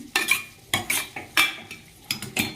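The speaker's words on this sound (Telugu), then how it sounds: "ఇందులోకి ముందుగా కట్ చేసి పెట్టుకున్న టమాటాలను వేసుకో ఒకసారి వీటిని బాగా కలుపుకోవాలి" Fried tomatoes are stirred into a curry in a pan, with a utensil scraping and tapping the metal in about five separate strokes, up close over a faint sizzle, no voices.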